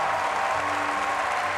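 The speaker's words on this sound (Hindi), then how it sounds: "जिसके बाद इवेंट में तालियां बजनी शुरू हो जाती है" Applause breaks out among the audience at an Apple product event, a soft, even patter of many hands heard at a distance with a low hum beneath it.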